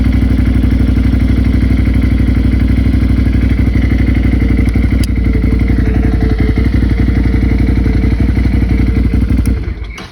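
Can-Am 650 ATV four-wheeler engine running loudly and steadily close by, a dense rapid thumping idle with clattery mechanical ticks throughout, cutting off abruptly near the end.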